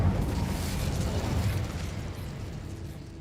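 A fiery Incendio spell is cast in Hogwarts Legacy on PS5, a loud, close, broadband whooshing burst that holds for about a second and a half, then eases into a softer, lingering roar.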